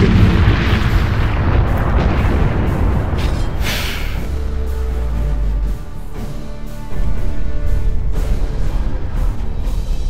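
Spaceships trade bombardment in Battlefleet Gothic Armada, heavy booming explosions and rumbling blasts rolling over one another, loud and continuous, with a deep low drone under a dense space battle.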